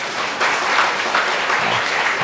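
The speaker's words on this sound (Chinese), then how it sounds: "我们拍手来欢迎他们" A church congregation applauding at a Sunday service, a dense steady patter of many hands clapping together that swells slightly after the start and carries on throughout.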